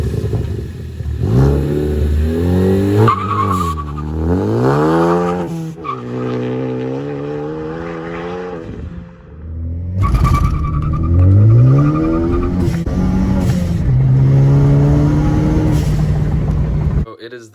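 A Ford Focus ST fitted with a Cobb rear motor mount drives hard, its engine revving up and down in repeated rising and falling sweeps, loud and close, with brief tire squeal.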